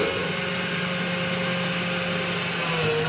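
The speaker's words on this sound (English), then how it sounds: "We'll just go ahead and drill here." A power drill whirs steadily at close range, boring through plexiglass into wood, a constant loud motor hum with a slight pitch change near the end.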